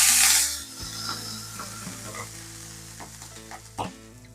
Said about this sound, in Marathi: आता गरम तव्यामध्ये पाणी आणि ऑइलचं मिश्रण ऍड करून घेऊया